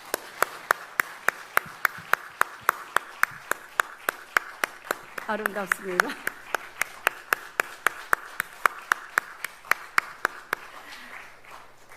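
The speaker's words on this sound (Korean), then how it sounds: "박수 한번 해." Clapping from a church congregation at a pastor's installation and elder ordination service, steady rhythmic claps throughout, fairly close and moderately loud, with a voice speaking briefly partway through.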